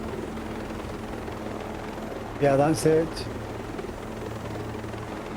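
Helicopter in the video game Ghost Recon Breakpoint, a steady low rotor drone running under the whole stretch while someone talks briefly in the middle.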